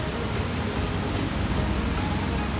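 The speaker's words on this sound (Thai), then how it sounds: "สวยครับมีน้ำตกหลายสายมากไหลลงมาเป็นเหมือนชั้น หน้าผานะครับที่มีน้ำไหล ผ่านลงมาประมาณ 4-5เส้นได้" Steady, dense rush of water from the first and largest tier of Sapan Waterfall in Bo Kluea, Nan, where four or five streams pour down a cliff face, heard as constant broadband roar with no pauses.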